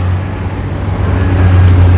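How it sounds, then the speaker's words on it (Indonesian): A truck drives in at a site where a blocked drainage channel is being cleared, its steady engine rumble loud and close with a low droning hum throughout. "Truk selanjutnya masuk."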